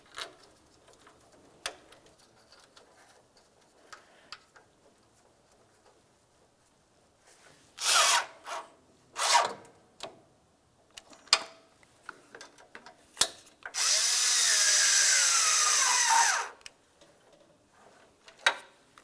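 Radiator mounting bolts on a Ford Flex are snugged up by hand, giving scattered soft metallic ticks and clicks, a few louder rasping bursts and one sustained whirring tool burst, all close-up in a quiet garage.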